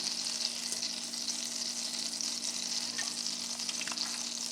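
Olive oil hisses steadily in a hot pan with melting butter, ready for searing scallops; a continuous bright sizzle with a few small pops near the end.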